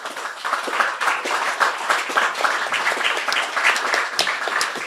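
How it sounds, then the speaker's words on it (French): Audience applause at the close of a French conference talk on materials science and construction, steady dense clapping filling the room throughout at fairly loud level, no voices over it. "Je pense qu'on peut les applaudir."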